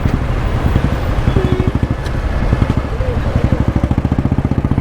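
A 2022 Yamaha R15 V4 motorcycle being ridden, its engine droning with a steady rapid pulsing throughout, up close with wind noise mixed in and no clear talk.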